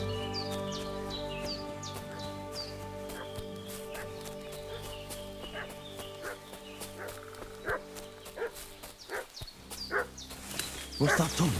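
Dog barking in a medieval open-world video game, Kingdom Come: Deliverance II, a run of repeated barks mixed with clucking chickens and farmyard ambience, growing louder and busier toward the end over steady background music.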